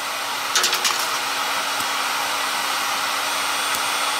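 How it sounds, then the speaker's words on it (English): A heat gun heats a mobile phone circuit board, giving a steady close blowing hiss with a constant tonal hum, with a few faint clicks near the start. "I'll be removing all this with the heat gun"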